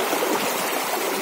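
Fast stream current rushing steadily around feet wading through deep water, a continuous broad wash of flowing water close by with no talk.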